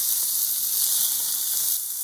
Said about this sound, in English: Fry the chicken.